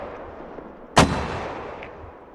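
A single mortar round fires in the video game Squad: one sharp, loud boom with a short rumbling decay, alone against quiet background.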